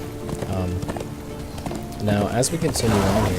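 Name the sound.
horse hooves clip-clopping in Darksiders II video game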